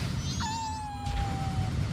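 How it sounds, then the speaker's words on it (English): A house cat meows loudly once, a single drawn-out call that starts high and slides down, heard close up over a low background hum. "I apologize if you can hear my cat yelling at me."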